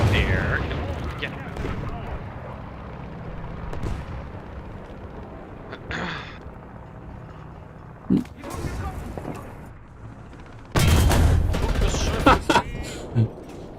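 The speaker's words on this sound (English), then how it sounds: "The artillery guy tried shooting me twice now." Artillery firing at a KV-1 tank in War Thunder, a few heavy booms and thuds scattered over a low engine rumble, one loud blast near the end, with someone talking throughout.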